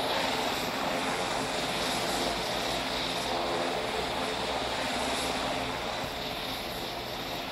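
Boeing 777 jet engines heard from inside the cabin as the airliner starts to move, a loud, dense, continuous roar with a steady hum and no talking.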